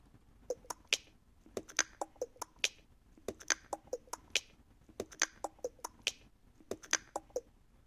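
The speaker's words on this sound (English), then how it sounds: "he's just a lot of clicking" A beat from an Incredibox character made of sharp, dry clicks, like finger snaps, repeating in a steady, busy rhythmic pattern with no voices over it.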